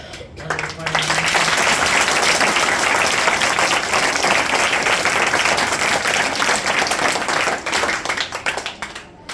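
Loud, sustained applause from a school annual-day audience, steady clapping that fills the whole stretch before tapering off at the end.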